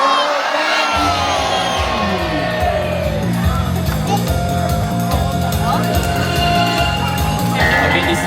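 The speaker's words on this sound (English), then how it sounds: "Cheer as loud as you can for him." A zoo show audience at Mandai Zoo cheers loudly on cue: a dense crowd roar of shouts, whoops and yells that bursts in after a brief quiet moment and holds steady for several seconds.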